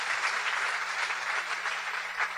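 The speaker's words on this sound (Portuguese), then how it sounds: "Vamos recebê-lo aplaudindo a Jesus" A church congregation claps to welcome a visiting pastor, a steady, even patter of many hands sustained at moderate loudness for the whole stretch.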